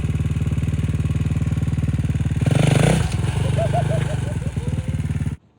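A KTM 450 engine fitted to an Amish buggy idles with a rapid, chugging thump, revs up briefly in a louder surge, then settles before cutting off. Someone speaks over it.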